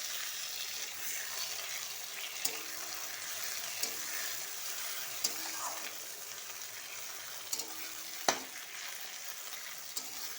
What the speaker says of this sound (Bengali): এবার দিয়ে দেবো কুচিয়ে রাখা টমেটো